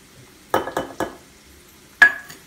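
A utensil stirs Nutella and maltodextrin together in a small bowl, with four distinct scraping clinks against the bowl, three close together and one after a pause.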